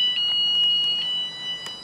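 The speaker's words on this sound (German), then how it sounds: "Mist, jetzt bin ich in meine Alarmanlage gekommen." An e-bike's anti-theft alarm sounds a sustained high electronic tone that cuts off after about a second, with faint outdoor background noise continuing afterward.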